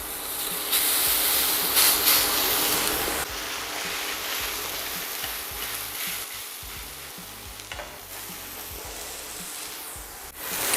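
A thin smash burger taco patty, meat side down, sizzles loudly and steadily in a hot oiled pan, a continuous close frying hiss with no talking.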